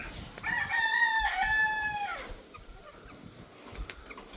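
A bulik gamefowl rooster crows once, loud and close, its harmonic call rising then falling over about two seconds, followed by quieter yard background with faint clucks.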